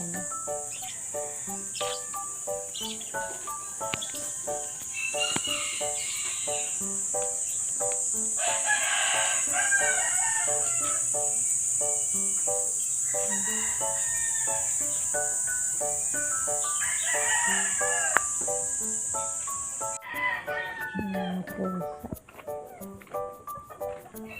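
A rooster crows several times over a steady high insect drone, with other fowl clucking faintly around it in an outdoor yard.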